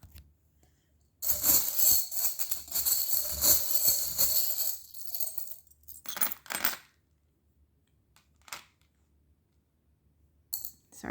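Small charms and little beads for a tarot reading are pulled out and dropped, giving a dense run of bright metallic clinks and rattles for several seconds, then a few scattered single clinks, close and clear.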